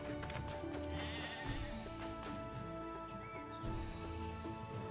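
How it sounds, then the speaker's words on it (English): Town ambience in the video game Kritika:REBOOT, with horses clip-clopping and whinnying and sheep bleating over a steady layered backdrop of music and tones, moderately loud and continuous. "A rooster, a lot of sheep, some horses, and a giant windmill."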